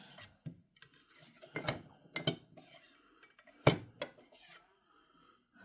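Japanese high-carbon stainless steel knives slid into a knife block, giving a string of metallic clinks, scrapes and rasps, with one sharp, louder clack partway through, heard up close and without talk.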